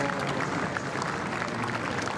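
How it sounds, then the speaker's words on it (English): Steady, warm applause from spectators in the enclosures at the Henley rowing regatta, a continuous wash of clapping at moderate distance with no voices standing out. "you can hear the warm applause there from the enclosures"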